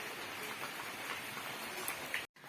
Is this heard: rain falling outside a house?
yes